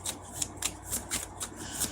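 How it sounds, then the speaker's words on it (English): A small deck of cards being shuffled by hand, quick close riffling bursts repeating in an uneven rhythm, with no talk over it. "This little deck is difficult to shuffle."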